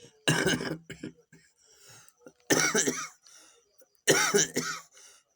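Three separate bouts of harsh coughing close to the mic, each a cluster of rough bursts, with short quiet gaps and faint throat sounds between.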